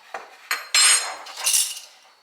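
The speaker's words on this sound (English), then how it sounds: "Give it a quick stir." A spoon clinks and scrapes against a pot or bowl while stirring mashed garden herbs with sage stems, a few quick close metallic knocks followed by a brighter scraping swirl.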